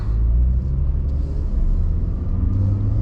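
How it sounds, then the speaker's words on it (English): A Chevrolet C7 Corvette Grand Sport pulls away, its engine giving a deep, loud rumble that swells near the start and then holds steady from inside the car. "let's take this Corvette for a spin here"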